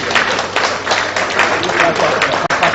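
Audience applause at a forum of the Niger Delta Development Commission, a steady wash of many hands clapping fairly loudly and close, with no break in the sound.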